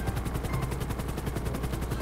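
Helicopter rotor thumping steadily in GTA 5 Online during a race, a dense rapid chopping pulse with low engine drone running loud and unbroken throughout.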